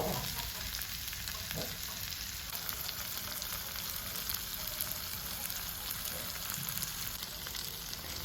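Rava-coated mackerel frying in oil on a tawa, giving a dense continuous sizzle and crackle that holds steady throughout, close and alone.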